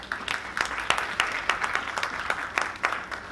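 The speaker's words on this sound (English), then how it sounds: "Put your hands together for her." Audience at a ladies' conference applauding a woman as she arrives, a moderately loud, continuous patter of many hands with distinct individual claps standing out rhythmically.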